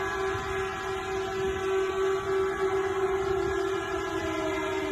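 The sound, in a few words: sirens sounding from Saudi Aramco refinery after missile strike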